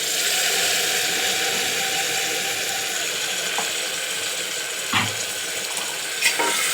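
Masala sputtering and frying in a pan for egg biryani, a steady broadband sizzle with a few sharper pops and scrapes, loud and close with no talking.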